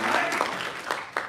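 Applause from a live audience at a crypto conference panel, a dense wash of clapping lasting just over a second with a few sharper claps near the end, under a background murmur.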